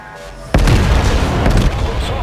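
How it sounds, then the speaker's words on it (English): Rear guns of a warship fire in World of Warships: a sudden loud, deep boom erupts and keeps rumbling, with a second crack about a second later, close and dominant. "And I shoot my rear guns in hopes that they will do the job, but did not connect."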